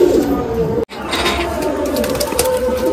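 Madrasi pigeons coo steadily and close by, a continuous low murmur of calls briefly broken by a short gap, with no talking.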